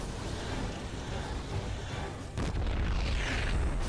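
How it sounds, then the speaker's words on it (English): Siege tank in StarCraft 2 firing on Stalkers: a single heavy artillery boom around the midpoint, loud over a steady bed of battle noise and game effects. "This tank does get a single shot off. 2 shots off before it dies."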